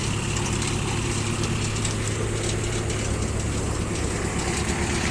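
A tractor engine runs steadily while the hydraulics raise the lid of a Japanese round baler; a constant, close, low idling rumble continues without a break and with no talk.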